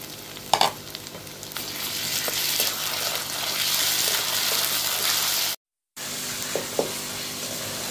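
Chopped tomato, cashews and ginger-garlic paste frying in a pan for kadai paneer, a steady broadband sizzle with a few sharp clinks of stirring near the start and end and a brief cut midway.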